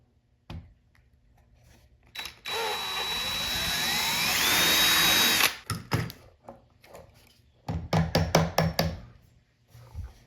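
A power drill bores a hole through wallboard for a hollow wall anchor, whining loudly and steadily for about three seconds and then stopping, followed by a few short clattering knocks and handling sounds nearby.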